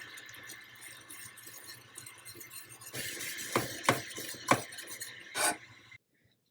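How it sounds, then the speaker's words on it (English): Butter and heavy cream are whisked into caramel in a pot. Soft stirring gives way to a run of sharper clinks and scrapes against the metal before it falls silent. "We're going to also add in our butter. Whisk that in."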